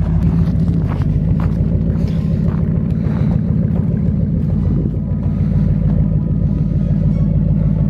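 A repaired old beater car reverses slowly, its engine giving a steady, loud, close rumble that stays continuous throughout, with no clear talk over it.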